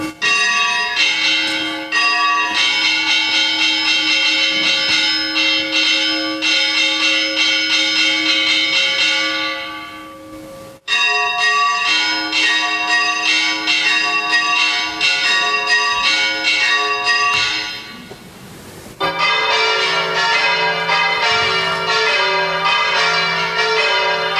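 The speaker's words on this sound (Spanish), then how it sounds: "de gente que lleva toda la vida tocando las campanas" Church bells rung by hand at a bell ringers' gathering in Viver, Spain, form a loud, continuous peal of overlapping strikes, briefly breaking off near the middle and shifting to a new pattern toward the end.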